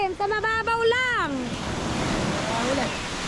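Sea waves wash and break steadily on a shallow shore where people fish, a broad rushing noise rising under the opening moments of a loud voice.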